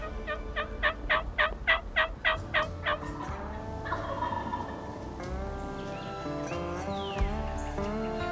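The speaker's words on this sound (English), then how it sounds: "We can hear them gobbling just right over the ridge here." Wild turkeys gobble in spring woods just over a ridge, a series of about eight loud rattling gobbles in quick succession, then a quieter stretch of outdoor background sound.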